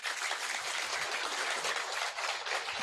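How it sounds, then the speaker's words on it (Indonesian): An outdoor political rally crowd in Indonesia claps in a steady, even wash of applause, fairly faint and distant, with no voices over it. "Tepuk tangan dong"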